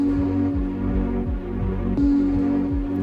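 Warning tone from a London TfL urban bus AVAS, with the moving beacon layer added: a steady electronic hum overlaid with a repeating throbbing pulse about every half second, continuous and close, with no talk.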